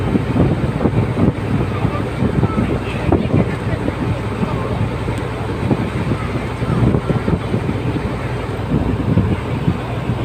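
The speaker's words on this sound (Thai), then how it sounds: "ลมก็แรงนะ" Strong wind buffets the microphone aboard a Chao Phraya river ferry crossing in Thailand, a constant gusty rumble mixed with the low drone of the boat.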